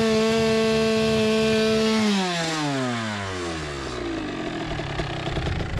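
A Kawasaki KX100 dirt bike in Guam screams at wide open throttle with a steady high-pitched engine note, then the revs drop and the pitch slides down into a lower, rougher idle-like drone, loud and close.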